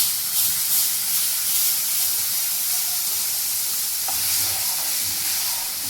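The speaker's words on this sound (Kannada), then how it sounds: "ಈಗ ಅದಕ್ಕೆ ನಾನು 2 ಕಪ್ಪಿನಷ್ಟು ಬಿಸಿನೀರು ಹಾಕ್ತಾ ಇದ್ದೇನೆ." Two cups of hot water poured into red-roasted semolina in a pan for mango sheera, a loud continuous steamy hiss and sizzle lasting several seconds with no talking.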